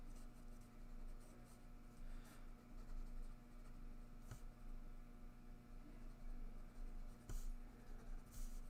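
Pencil drawing lines on paper during a one-point perspective demo: steady scratchy strokes come close and continuous, with brief rhythmic pauses and heavier marks now and then, and no talking.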